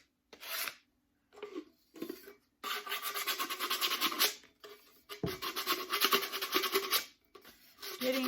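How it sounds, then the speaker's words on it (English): A tumbler's bottom edges being lightly sanded by hand: short scratchy rasping strokes, first in brief separate bursts, then in longer continuous runs, close up with no talk. "I just want to lightly sand on the bottom, around the edges there."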